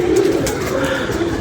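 Pigeons cooing close by, a soft continuous throaty warble that fills the whole brief moment.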